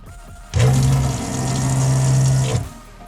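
Water runs from the sink tap of a Volkswagen Transporter T5 camper van, fed by an integrated pump from a 40-litre tank under the bench: a steady close flow lasting about two seconds with a low pump hum, starting and stopping abruptly.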